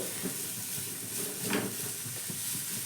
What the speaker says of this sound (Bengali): এবার দেখো সবজিগুলো নাড়াচাড়া করে হালকা করে একটু ভেজে নিতে হবে